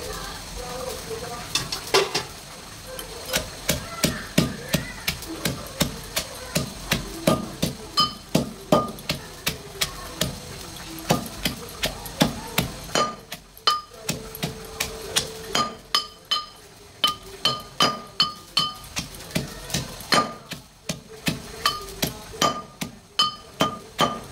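Dried red chilies, four or five, pounded in a mortar and pestle for a raw taro bhorta: a steady run of sharp, close knocks and clinks, quicker at first, then spaced into firmer separate strikes.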